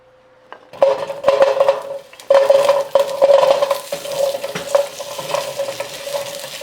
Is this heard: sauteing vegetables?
yes